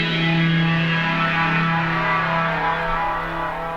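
Tweaked synthesizer patch, darker with a longer reverb tail, a loud sustained distorted drone with a steady low tone and shimmering upper harmonics that slowly fades slightly, heard alone.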